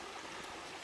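A stream rushes under rocks near Tadfa Waterfall in Chaiyaphum, a brief steady wash of flowing water with no voices.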